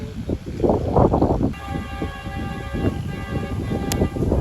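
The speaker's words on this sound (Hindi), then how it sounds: "अब रहमान बाबा एक्सप्रेस आ चुकी है Geo 40 के साथ" Rahman Baba Express passenger train rolling into Dabheji railway station: a steady low rumble joined midway by a sustained tonal whine, with a brief sharp high note near the end.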